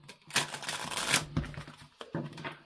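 Tarot cards are shuffled in a few quick riffling bursts, crisp and close, with short pauses between them.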